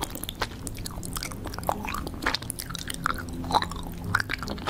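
A woman chews cucumber loudly with her mouth open, giving wet, smacking, crunchy bites in an uneven run of close, clicky mouth noises.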